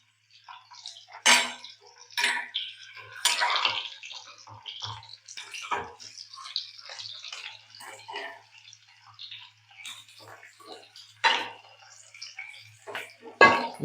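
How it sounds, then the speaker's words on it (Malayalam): Onions stirred in a pan for aloo dum curry, sparse clinks and scrapes of a spoon against the pan coming and going close by, with a person talking throughout. "ഇടക്കിടക്ക് ഇളക്കി കൊടുക്കണം"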